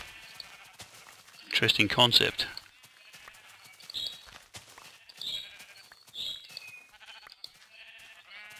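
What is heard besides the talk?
sheep bleating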